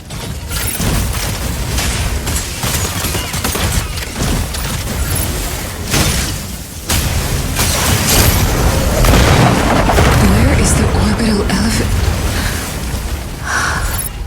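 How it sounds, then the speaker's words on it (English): Gauss cannon impacts thunder during a Mecha Break mech battle, heavy booming blasts over a dense, loud wall of combat noise that swells louder midway and keeps going with no talk. "Gauss cannons' powerful impact can immobilize the target."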